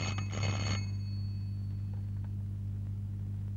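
A telephone rings once in a short burst at the start, then only a low steady hum is left.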